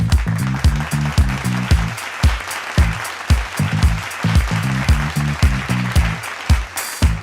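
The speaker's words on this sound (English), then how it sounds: "Big round of applause." Applause from an audience at an influencer awards show, a loud sustained round of clapping with rhythmic beats and music-like pulses running through it, filling the whole stretch.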